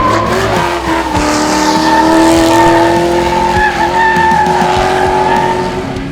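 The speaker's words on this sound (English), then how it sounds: "I reclutched it harder and I pulled the hydro handbrake even harder" A Nissan 180SX drifts on tarmac at a rally sprint, its tires squealing in a long continuous screech over a steady, loud engine drone that holds for several seconds without any voices.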